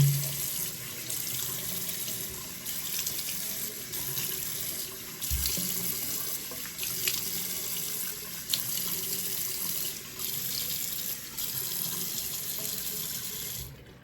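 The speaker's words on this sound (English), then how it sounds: "clean my face with just lukewarm water" Lukewarm tap water running into a bathroom sink during face washing, a steady close stream with slight shifts and a couple of small splashes as hands pass through, no talking.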